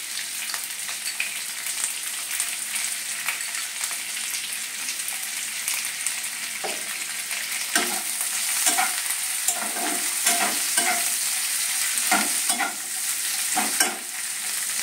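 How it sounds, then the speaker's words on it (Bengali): Chopped onions fry in a pan with a continuous soft sizzle, while a utensil scrapes and stirs in irregular bursts that grow busier toward the end, close and alone. "আমি পেঁয়াজটা ভেজে নিই, এর উপর দেব।"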